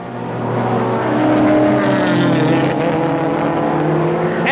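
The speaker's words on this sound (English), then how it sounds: "there's Sears driving beautifully smoothly" Touring cars race around a circuit in the 1988 British Touring Car Championship, their engines forming a loud, continuous, steady roar with no break and no voices.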